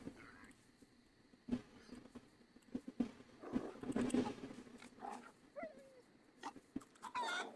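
Chicken in the video game DayZ clucks in short scattered bursts, fairly faint, mixed with light patter and other farmyard sounds and no clear talk.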